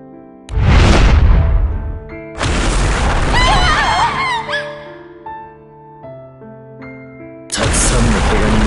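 An animated modified airship explodes above an island in a deep, loud boom with a long rumbling tail, set among dramatic music swells and other sharp sound effects.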